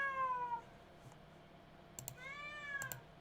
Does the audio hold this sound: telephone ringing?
no